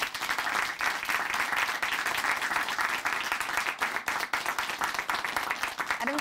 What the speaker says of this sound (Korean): 우리 큰 박수 보내드릴게요